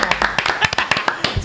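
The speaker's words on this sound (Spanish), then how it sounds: "un aplauso para Fogón" Scattered hand claps from a small group on a casual talk show, the individual claps sharp and uneven, mixed with light talking and laughter in the room.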